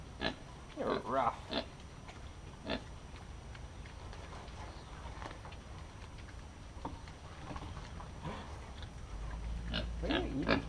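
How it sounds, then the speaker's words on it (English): Pigs at a dairy farm grunt and snort in short bursts, close by and scattered through the stretch, with light rustling and handling noise between them. "Checking out the pigs."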